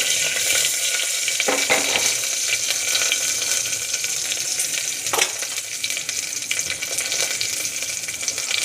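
Green chili pieces and a sprig of curry leaves frying in hot oil, a steady broadband sizzle throughout with a couple of sharper crackling bursts, close and alone.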